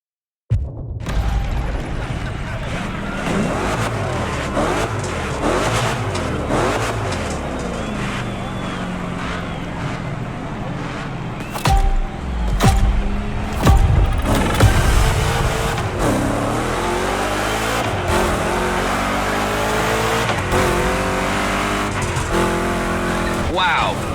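Two Chevy big-block race cars roar through a gymkhana course in The Crew Motorfest, engines revving and climbing with tire squeals and skids, loud and continuous throughout while someone talks over the action.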